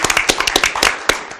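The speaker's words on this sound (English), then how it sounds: "We can clap again." Audience clapping at a Shelton city commission meeting, a short burst of scattered, uneven hand claps from a small crowd in a room, close and fairly loud.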